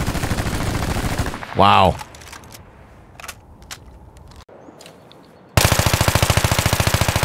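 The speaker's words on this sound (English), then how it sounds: "Let's listen to some mag dumps." Full-auto magazine dumps from an AEK rifle in Battlefield 2042: one long rapid burst, a pause with a brief spoken exclamation, then another loud, sustained stream of shots.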